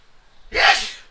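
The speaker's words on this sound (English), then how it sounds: "Somebody sneezed in the background." A single loud, close sneeze bursts out after a stretch of near silence and fades within about half a second.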